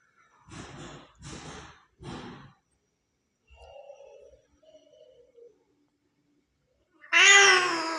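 Persian cats mating: three quick breathy bursts and soft murmuring sounds, then a loud, drawn-out cat yowl rises sharply at the end.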